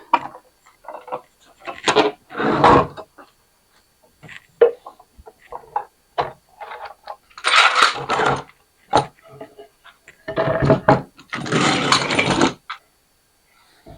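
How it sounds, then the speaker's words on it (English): Glued cherry boards come out of their clamps in a series of close, sharp wooden knocks, clicks and scraping bursts, with rattling clamp hardware between short pauses. "Now let's take these out of the clamps."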